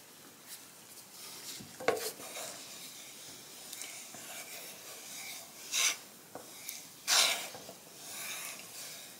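Oak gall guitar stain mixed with thyme oil is stirred in a small container, giving faint scraping and rubbing strokes with a few louder clinks and scrapes, close and quiet, no speech.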